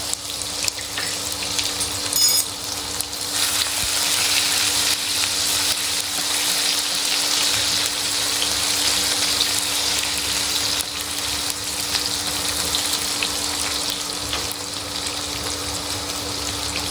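Crushed garlic frying in hot oil for Maharashtrian baingan bharta. A loud, steady sizzle with a constant crackling hiss runs through the whole stretch, with no talk.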